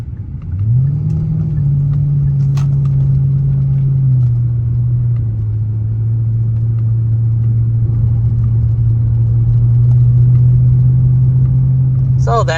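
Genesis car with an upgraded aftermarket exhaust, a loud steady low engine drone that rises briefly at the start and then holds a constant pitch throughout, heard up close with no talk.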